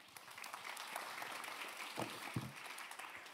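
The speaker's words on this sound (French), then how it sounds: "on peut l'applaudir" Applause from a French political campus audience welcoming a speaker, a fairly quiet, steady patter of many hands with a couple of brief voiced bursts mixed in.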